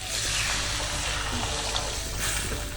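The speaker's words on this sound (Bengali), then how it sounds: "এবার দিয়ে দেবো জল" Water poured into a pan of potato and eggplant curry, a steady loud rushing pour lasting throughout, close and continuous.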